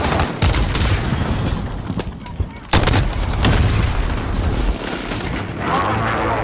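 A precision airstrike in a Call of Duty-style shooter game: a run of heavy booms and explosive bursts layered with gunfire, loud and chaotic, with a voice talking beneath.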